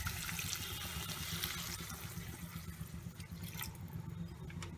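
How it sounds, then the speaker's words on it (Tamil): Water poured into a pan of Maggi noodle masala mixed with sambar masala for a soupy carrot Maggi, a steady close trickling and splashing stream that runs for several seconds over a low background hum. "இந்த கன்சிஸ்டன்சியில் நான் வாட்டர் ஆட் பண்ணிக்கிறேன்."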